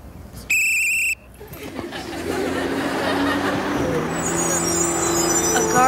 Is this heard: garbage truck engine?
yes